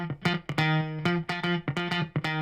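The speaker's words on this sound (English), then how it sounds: "I found this guitar loop online and that sounds like this." A distorted, effects-laden electric guitar loop plays a rhythmic riff of sharp plucked notes with short gaps between phrases, loud and close with no talking.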